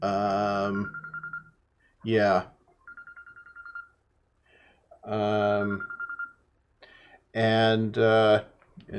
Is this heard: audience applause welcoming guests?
no